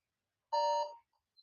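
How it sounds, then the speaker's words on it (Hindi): A quiz countdown timer gives a single bright electronic beep of about half a second, loud against silence, followed by a tiny faint blip. "आपका भाई ये टाइमर शुरू हो गया है"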